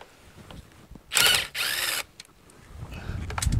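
Power tool, likely a ratchet or driver, working the 7/16 bolts on the air box of a Toro Wheel Horse 1238XL lawn tractor with a Briggs flathead engine, two short close whirring bursts amid quiet shop noise.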